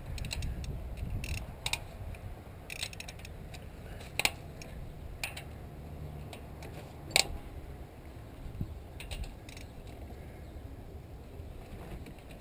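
A ratchet loosening camshaft cap bolts on a Ford 5.4L engine, producing repeated sharp metallic clicks and clacks in irregular bursts, close up over a low steady background hum.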